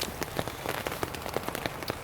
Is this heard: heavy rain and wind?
yes